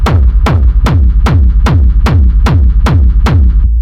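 An industrial techno kick drum run through Ableton's Drum Buss hammers in a fast, even pulse of nine loud hits, each a crisp saturated click sweeping into a heavy low boom with dense rumble between.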